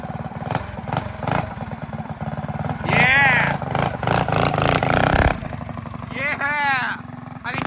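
A Predator 212 stage 3 engine on a Manco Dingo go-kart runs loud and close, idling with a rapid clattering pulse before revving up twice in rising surges, while people talk over it.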